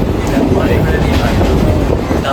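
A Mumbai local train runs, a loud, steady rumble with rhythmic rail clatter close by and some voices mixed in.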